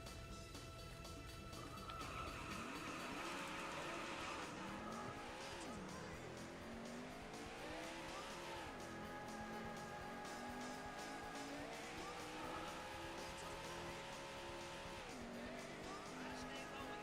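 Race cars in the 1994 Daytona USA arcade game, with a continuous whining engine note that rises and falls through gear changes and corners, plus squealing tires and skids, steady and fairly loud throughout.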